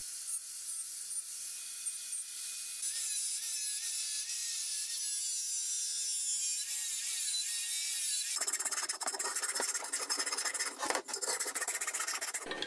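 Edges of heavy steel RHS tubing are cleaned up with a tool that makes a steady, close rasping and grinding noise, which turns harsher and rougher partway through, with no speech.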